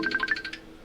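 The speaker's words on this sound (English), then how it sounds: "I got everything ringing. All of it is ringing." A phone ringtone trills in a quick series of short electronic pulses, fairly faint and lasting under a second before fading out.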